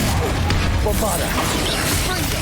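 Bombarda blasting spell in Hogwarts Legacy, a loud crash and thwack amid whooshing magical effects in a dense combat mix lasting a couple of seconds.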